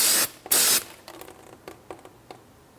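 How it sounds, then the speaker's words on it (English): Two sharp aerosol bursts of parts cleaner hiss onto the front brake parts of a 2004–2008 Pontiac Grand Prix, followed by faint dripping and light clicks close by. "We'll give it a quick rinse with some parts cleaner."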